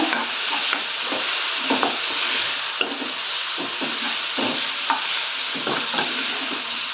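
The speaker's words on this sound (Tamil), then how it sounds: "நல்லா இது கலந்து விட்டுக்கலாங்க." Banana flower and capsicum thokku is stirred in a pan: a spoon scrapes and knocks in irregular strokes over a steady, close sizzle of frying.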